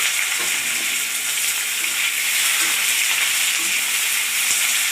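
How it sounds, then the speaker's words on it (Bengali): Sliced onions and green chillies fry in hot oil in a pan with a loud, steady, close sizzle and occasional stirring, and no talking. "এবার পেঁয়াজ কটা দিয়ে দিচ্ছি"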